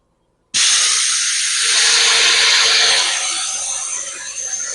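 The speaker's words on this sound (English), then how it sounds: "It popped off at 100 psi." An air compressor's pop-off valve releases air at 100 psi, a sudden loud, continuous close hiss that starts abruptly and holds steady before easing slightly.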